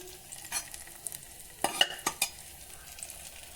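Hot oil being poured over browned onions for Hyderabadi dum biryani, a low sizzle broken by a few sharp clinks and scrapes of a utensil against the pan.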